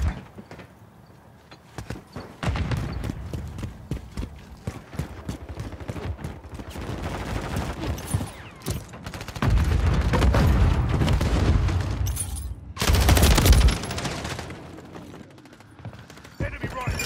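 In a Kill Confirmed match on the Drive Thru map, a frag grenade is thrown and gunfire rattles in sustained bursts, with heavier booming surges around the middle and latter part and voices talking over the action.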